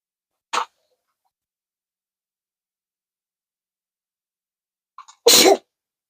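A single person sneezes sharply and close by near the end, after a brief small sound at the start, with silence between.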